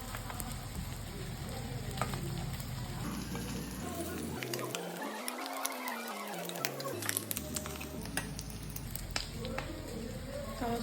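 Eggs frying in hot oil for an egg curry, a steady broadband crackle and sizzle that runs close and even throughout, with occasional small pops and no one speaking.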